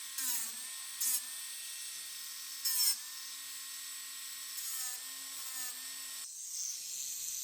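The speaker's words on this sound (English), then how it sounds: "I'm using a paddle disc for this part." An electric nail file fitted with a paddle disc shortens nails with a thin, high whine that dips in pitch as it presses, with short brighter scraping bursts, steady and fairly quiet with no talk.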